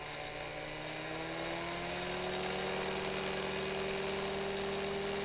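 Beaver RX 550 plane engine revving up on a snowy ski run, a steady close buzzing drone that rises in pitch as the throttle opens and then holds high and even, with no talking.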